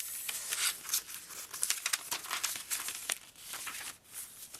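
Tracing paper handled in a journal crinkles and rustles close up in quick, irregular bursts, soft and continuous with no voices.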